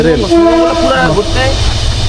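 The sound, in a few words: train passing through forest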